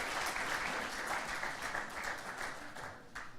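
Audience at a sustainable tourism conference session in Aysen, Chile applauding a panelist, a steady dense patter of many hands clapping that holds at moderate level and tapers slightly near the end.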